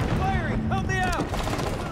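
Rapid gunfire from the Halo 5 video game, loud dense bursts mixed with sweeping weapon tones and other game effects, with a voice briefly calling out over the shooting.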